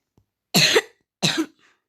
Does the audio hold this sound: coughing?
yes